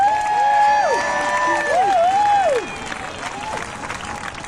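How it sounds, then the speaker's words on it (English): Applause and cheering from a crowd at a 1993 ADAPT disability-rights memorial gathering, loud and steady through the first half, then thinning out, with tonal whistles or voice-like sweeps riding over it. "Let's hear a real rousing round of applause for Justin Dodd"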